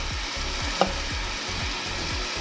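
Drumstick leaves frying in hot ghee, a steady close sizzle with a few soft stirring scrapes and one brief clack, no voices.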